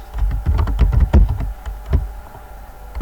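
Rapid clattering keystrokes on a computer keyboard, close and fairly loud, a quick burst of irregular taps that thins out into a few isolated presses after a couple of seconds.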